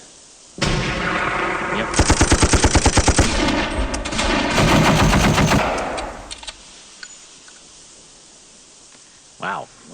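Heavy machine gun fire from the wargame Steel Panthers: World at War, a loud sustained burst of rapid rhythmic shots with crackling noise that swells and then fades out, followed by scattered faint clicks and a brief spoken word.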